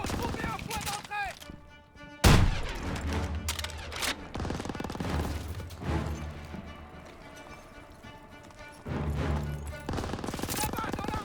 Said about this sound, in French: Mitrailleuse, restez pas dans la rue!